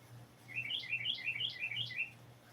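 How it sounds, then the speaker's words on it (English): An outdoor bird gives a quick series of bright, repeated chirps in short bursts, fairly close and clear above a low, steady background hum. "That's a loud bird."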